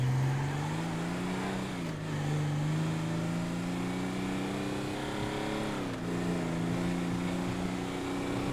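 Steady engine drone of a truck driving in GTA Online, holding a constant pitch with slight dips as it shifts, sounding close and continuous with no talk.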